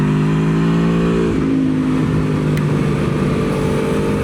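2023 Aprilia Tuono V4 motorcycle on a track day, engine revving up through the gears with rising, shifting harmonic pitch, loud and close throughout, no talk.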